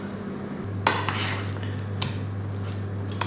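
Roasting rosemary parmesan potatoes turned over in a metal tray with a utensil, a few sharp clinks and scrapes against the pan over a steady low hum.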